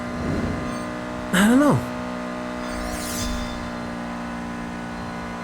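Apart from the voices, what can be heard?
car engine in the video game Need for Speed No Limits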